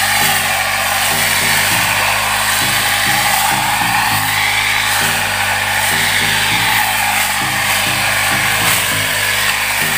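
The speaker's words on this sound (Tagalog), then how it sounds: "grass cutter ng tatay" A grass cutter's small engine runs steadily and loudly throughout, a constant buzzing drone with a shifting whine on a hillside farm plot being cleared for planting.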